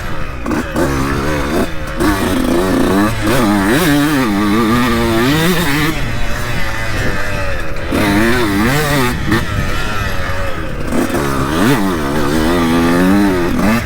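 A 2002 Honda CR125 two-stroke dirt bike engine revs hard and close, its buzzing pitch rising and falling through repeated throttle bursts and gear changes with short dips between pulls.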